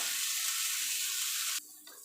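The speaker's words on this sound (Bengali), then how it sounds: "এবার এটাকে আমি ভেজে নেব মিনিট তিনেক মতো ধরে" Bitter gourd frying in a pan makes a loud, steady hiss of sizzling oil that drops abruptly and continues more quietly near the end.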